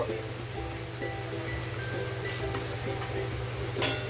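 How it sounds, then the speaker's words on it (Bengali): Bay leaves, small cardamom and cinnamon fry in oil as the base for paneer pulao, a soft steady sizzle with a few faint clinks throughout. "দুটো আমি তেজপাতা দিয়েছি আর ছোটো এলাচ দারুচিনি লবণটা দেবো দিয়ে একটা ভাজা ভাজা মতো করে নেব"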